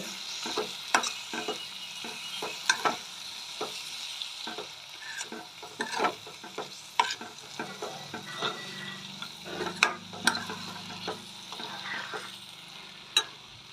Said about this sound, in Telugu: బాగా బాగా కలపాలి